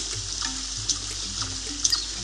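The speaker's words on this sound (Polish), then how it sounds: "I słychać, no naprawdę głośno tutaj płynie woda." Loud, steady rush of flowing water in a cave area of the video game Rayman 2, a continuous hiss with a few brief splashy blips on top, no voices.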